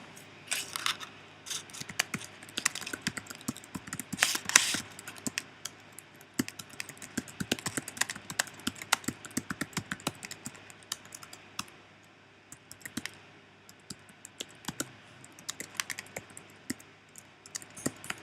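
Typing on a computer keyboard during a design software session: quick, crisp key clicks in dense irregular bursts lasting throughout, close and fairly loud, with no talking.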